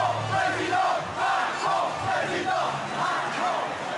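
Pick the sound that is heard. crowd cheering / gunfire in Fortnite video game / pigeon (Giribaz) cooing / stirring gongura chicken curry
crowd cheering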